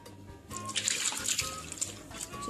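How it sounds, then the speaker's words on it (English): Curdled milk being strained through a cheesecloth, liquid pouring and trickling steadily with splashy bursts, close and continuous, no talk. "We are immediately going to strain. For that we are using a cheesecloth."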